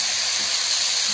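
Chicken pieces hitting a hot pan for a Hindi-style white chicken biryani, giving a steady, loud broadband sizzle and hiss that holds evenly throughout with no talking.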